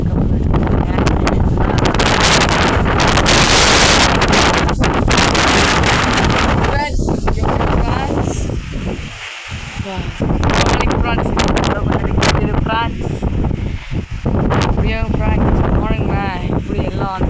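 Strong gusts of wind roar across the microphone in a village during the windy season, loud and buffeting with surges and lulls, while a person talks intermittently over the blowing.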